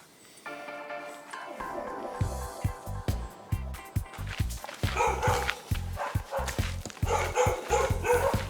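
Dogs barking in Portland, Jamaica, a rapid run of loud, repeated close barks and yips that starts a couple of seconds in and continues steadily to the end.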